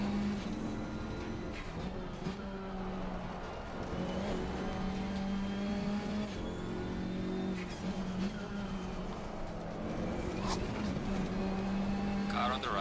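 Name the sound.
race car engine in a sim racing video game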